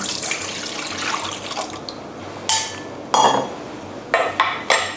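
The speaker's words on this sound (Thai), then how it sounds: "เราก็จะเอาส่วนผสมของเหลวเนี่ยใส่ลงไปนะคะ" Liquid ingredients, including cold water, are poured into a bowl of tempura-style batter mix for deep-fried salad, heard as several short close splashing pours separated by brief pauses.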